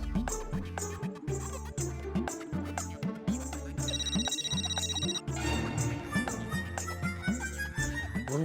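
A phone rings with a repeating electronic ringtone pattern, steady and fairly loud, continuing for several seconds without interruption.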